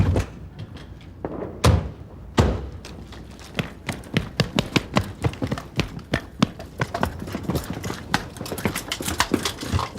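Someone at a rear door makes a run of heavy thumps and knocks, a few loud isolated bangs early, then a rapid irregular string of knocks and bumps, fairly close and without talk.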